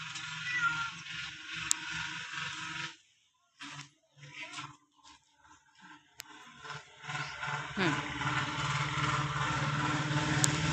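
A cat meows several times amid shifting background noise and a low engine-like drone, with occasional faint voices nearby.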